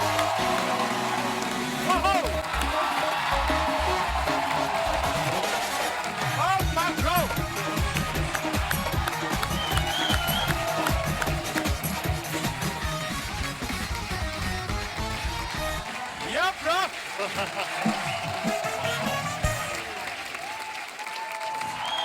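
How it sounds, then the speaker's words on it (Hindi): A studio audience on The Kapil Sharma Show applauds steadily for Kartik Aaryan's entrance, a dense, loud wash of clapping that runs the whole stretch. "जोरदार तालियां कार्तिक के लिए"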